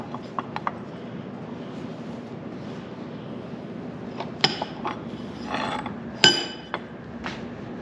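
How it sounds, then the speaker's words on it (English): A bearing cup is pressed into a John Deere B transmission cover with a post vise, giving a few isolated metallic clinks and ratcheting clicks in a quiet workshop, with a louder clunk and scrape near the end. "We're going to install the bearing cup into the cover"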